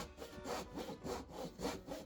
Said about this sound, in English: I used a pole saw, since there wasn't room to fit a jig saw or circular saw under there